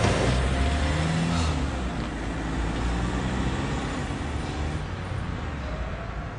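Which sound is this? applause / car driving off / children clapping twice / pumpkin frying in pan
car driving off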